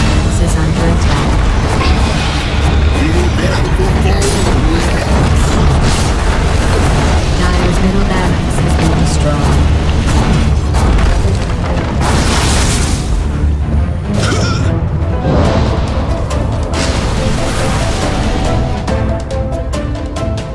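Explosions boom in quick succession as Dire's middle tower comes under siege in a Dota 2 match, loud and dense with layered blasts and impacts running continuously throughout.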